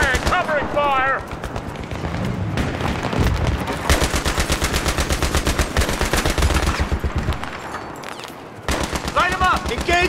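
Bursts of automatic rifle fire in the Battlefield 3 shooter, long rapid strings of close, loud shots with brief pauses, while soldiers shout orders over and between the firing.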